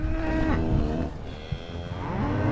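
Steer calves and cows mooing while being sorted into pens on a ranch at weaning time, several overlapping bawls following one another, close and loud with no talk over them.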